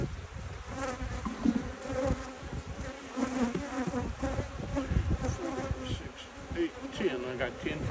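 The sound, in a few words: honeybees buzzing around an open hive box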